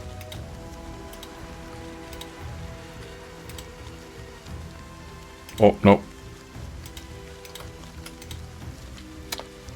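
Soft, steady rain patters in the video game Dungeon Settlers, a faint hiss of drops running throughout, while someone briefly speaks over it.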